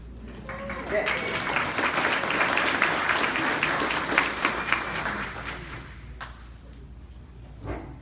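Audience clapping swells into a broad, steady wave of applause that holds for several seconds, then thins out, with a voice speaking around it and a few thuds near the end.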